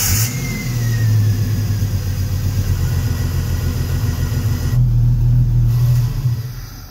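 A Rover car engine starts and settles into a steady, close running hum with slight revving, loud throughout with no talking.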